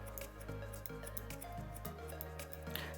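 Scissors snip hair while side bangs are cut, giving several crisp, close metallic snips in an uneven rhythm over a loud low hum.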